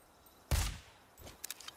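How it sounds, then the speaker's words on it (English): A single sharp, booming gunshot in Sniper Ghost Warrior Contracts 2, followed by a quieter burst and a few faint, rapid cracks. "I just heard gunshots"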